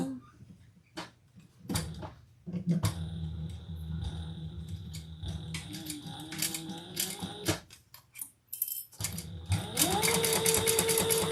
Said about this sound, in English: let's sew this down each side. Little top stitch.